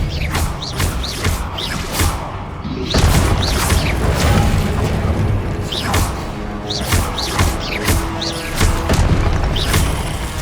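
Spells and explosions in the Hogwarts Legacy video game: repeated booming blasts, thuds and whooshing magical effects come in bursts over a rumbling bed, loud and close, with a heavier cluster of impacts after about three seconds.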